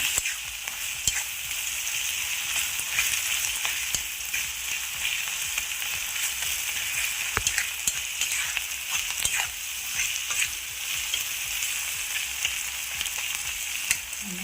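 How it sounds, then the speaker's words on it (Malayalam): Small shallots frying in a pan for Kerala pappadam thoran, a steady close sizzle with scattered crackles and occasional stirring clicks, no talk. "നന്നായിട്ടൊന്ന് മൂക്കട്ടെ നമ്മുടെ സവാള നന്ന സവാളയല്ല ചെറിയ ഉള്ളി നന്നായിട്ട് മൂത്തിട്ടുണ്ട്"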